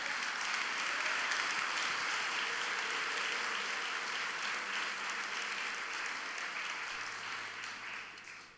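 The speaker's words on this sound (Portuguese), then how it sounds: "Aplauda ao Senhor Jesus Cristo." Church congregation applauding in a large hall, steady dense clapping sustained and fairly even throughout, fading slightly near the end, heard at a distance with no talk over it.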